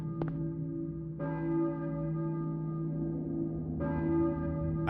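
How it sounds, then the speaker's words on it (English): A church bell in the Silent Hill video game strikes three times, each deep clang ringing out and lingering over a steady low drone, with no voices. "I hear a church bell, maybe. Who's ringing the bell?"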